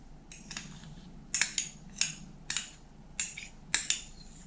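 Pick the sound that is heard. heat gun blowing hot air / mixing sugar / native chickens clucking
mixing sugar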